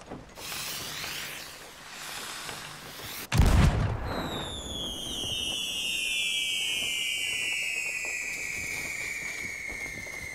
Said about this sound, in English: I did want to try out this freaking firework